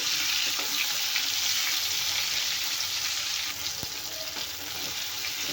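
Chopped tomatoes and tamarind roasting in hot oil make a continuous, close hiss and sizzle, with a few faint stirring knocks and scrapes and no talking.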